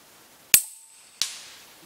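A .22 cast slug fired from a Huben K1 high-power airgun: two sharp, close cracks about 0.7 seconds apart, each with a short fading tail and a faint ring between them.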